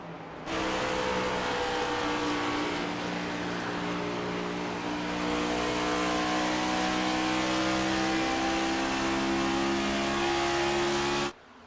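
Race car engines roar continuously in the iRacing video game at a Homestead oval race, a loud sustained drone with steady tones shifting slightly in pitch, heard alone without commentary.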